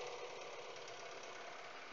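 A car engine idling in an automotive shop, a steady faint mechanical hum with a light, even ticking texture and no talk.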